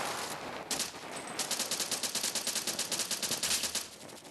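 Video-game FAMAS rifle fire in a CS:GO-like shooter, heard as a long, rapid string of sharp, evenly spaced shots after a short opening burst, with no one talking.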